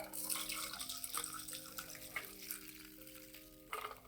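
A Last Word cocktail is poured from a shaker into a chilled glass, giving a soft trickling, splashing flow with faint clinks, quiet and close, with no talking.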